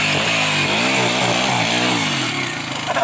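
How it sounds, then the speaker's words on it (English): A chainsaw runs loud and close in an outdoor carving setting, its engine pitch rising and falling slightly as it revs. "Oh, look at this chainsaw!"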